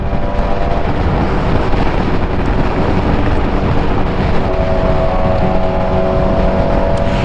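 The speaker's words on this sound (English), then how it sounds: "this aero exhaust is wide open right now. It sounds great." A motorcycle with an open aero exhaust rides through tight Miami traffic, a steady loud engine roar mixed with heavy wind rush that continues unbroken throughout.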